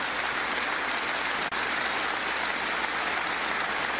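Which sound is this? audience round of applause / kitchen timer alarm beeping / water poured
audience round of applause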